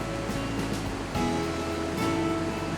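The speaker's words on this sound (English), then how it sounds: "another waterfall that welcomes people with its thunderous sound" Kestane waterfall in Gülyalı district, Ordu, Turkey, roars as a dense, continuous wash of rushing water that stays loud and steady throughout, with no voices.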